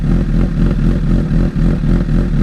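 A Honda CB1000R fitted with a Black Widow exhaust ticks over at idle, a loud, close, steady burbling engine note with slight rhythmic pulsing and no voices.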